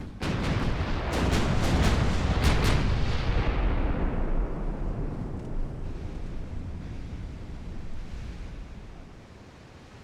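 Warship main guns fire in Ultimate Admiral: Dreadnoughts, a rapid cluster of loud booming salvos in the opening seconds, then a long rumbling roar that slowly fades under wind-and-sea ambience.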